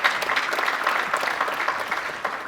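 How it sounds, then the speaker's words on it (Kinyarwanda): Audience applause welcoming Minister Dr. Damascene Bizimana at a commemorative gathering: dense, sustained clapping from a crowd, loud and close throughout. "Amashyi menshi cyane kuri Minisitiri."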